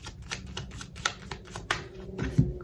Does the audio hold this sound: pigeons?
no